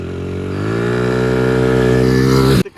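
A Honda CRF100 dirt bike fitted with a nitrous kit pulls hard in third gear. Its loud, close engine roar climbs steadily in pitch for over two seconds, then cuts off abruptly.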